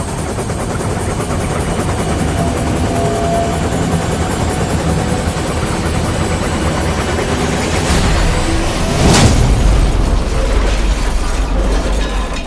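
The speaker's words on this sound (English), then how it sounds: "As Harold's rotor blades began to spin" A helicopter engine whines and its rotor blades thump steadily, building in loudness near the end with a sharper burst of mechanical noise.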